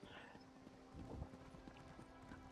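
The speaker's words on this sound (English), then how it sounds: "That's just me riding by on a horse, a little fast" Hooves of a horse clip-clopping at a fairly quick pace through a video game town, very faint and distant, with a soft tonal hum and a voice talking quietly underneath.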